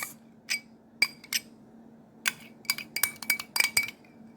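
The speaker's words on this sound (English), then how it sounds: "now we're going to mix this together" A utensil mixes salmon cake mixture with mayonnaise in a bowl, giving irregular bright clinks and taps against the rim, some in quick clusters, over a quiet background.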